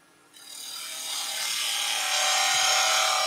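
A woodturning tool scrapes steadily against the bottom edge of spinning wood, a bright continuous hissing rasp that starts abruptly and grows slightly louder.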